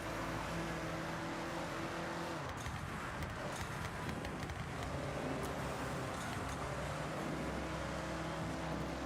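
Car engine in a driving game that sounds fitted with anti-lag, a steady loud drone with crackling pops over the top that runs through the whole stretch, with no talk over it.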